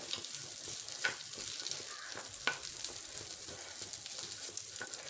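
Chopped dates frying in ghee for laddoos, a steady soft sizzle with faint stirring clicks and a couple of brief louder pops, moderately quiet throughout.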